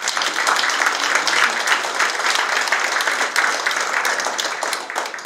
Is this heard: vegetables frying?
no